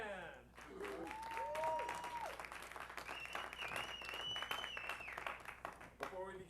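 A theater audience at a circus variety show in Times Square applauds the band, with rapid clapping, rising whistles and cheers, and a voice speaking over the crowd.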